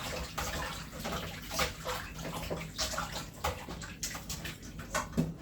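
Oxtail is washed by hand in salty water, with repeated sloshing and splashing bursts in an irregular rhythm, close and fairly loud.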